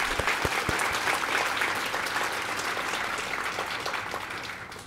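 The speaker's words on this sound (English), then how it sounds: "So a big round of applause for those people." Sustained applause from a conference audience at a library technology gathering, honoring diversity scholarship recipients; dense, steady clapping with a few sharp claps near the start, fading slightly toward the end.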